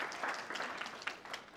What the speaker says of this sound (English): Please give a round of applause to yourselves.